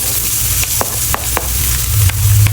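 Garlic and onions sizzle loudly in a pan for a caldereta, a close, continuous crackling hiss broken by a few sharp clicks, with a low hum beneath and no talking.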